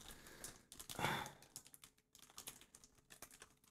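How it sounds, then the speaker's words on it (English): Left-handed scissors cutting into a plastic bag, heard as quiet, close, irregular clicky snips and crinkles with a brief louder rustle near the start and short pauses between cuts. "I broke the bag, so I'm just gonna fucking cut it now"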